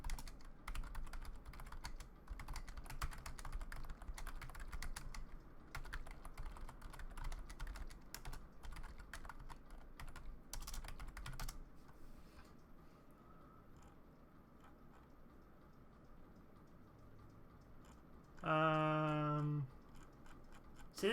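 Rapid clicking keystrokes on a computer keyboard fill roughly the first eleven seconds at close range and then stop. A brief tonal sound follows near the end.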